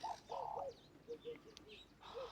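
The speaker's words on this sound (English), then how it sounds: "I bet you can hear some birds chirping," Birds calling outdoors in a village at a moderate distance, with low repeated cooing notes and a few lighter chirps over a quiet background.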